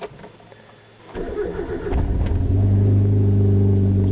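A Hyundai car engine rumbles up from idle, growing louder and steadier as the vehicle gets underway, a low continuous drone close by with no talking.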